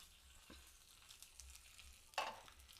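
Tempering of mustard seeds, cumin, curry leaves and a dried red chilli for coconut chutney, sizzling faintly in hot oil with soft crackles and a sharper pop near the end.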